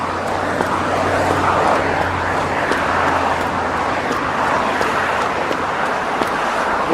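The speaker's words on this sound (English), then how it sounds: "Oh, sorry about the traffic noise." Highway traffic gives a steady, loud roadway rumble with a broad hiss. Vehicles pass continuously, and no clear gaps or single events stand out.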